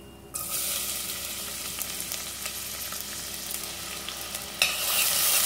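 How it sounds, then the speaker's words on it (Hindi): Onions hit hot oil in a pressure cooker and start sizzling loudly right away, a steady crackling hiss that surges again near the end. "सबसे पहले हम कुकर में डालेंगे 1 चम्मच तेल, उसमें डालेंगे ऑनियन"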